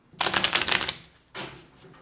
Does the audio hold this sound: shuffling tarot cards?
yes